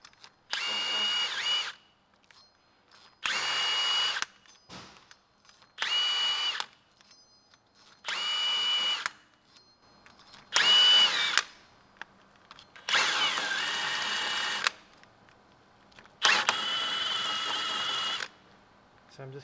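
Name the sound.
power tool cleaning rust off Lexus RX350 rear hub surface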